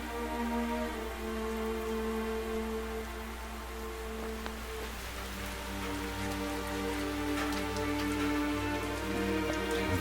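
Heavy rain pours steadily in a film scene, a dense continuous hiss of drops on surfaces with a low steady rumble beneath, loud and unbroken throughout with no talk.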